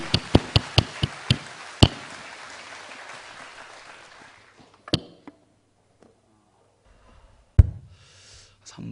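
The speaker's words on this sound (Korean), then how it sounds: "우리 하나님께 영광의 박수 올리겠습니다." Church congregation giving applause after a prayer, a few sharp close claps at first, then a softer spread of clapping that dies away, with scattered single claps afterward.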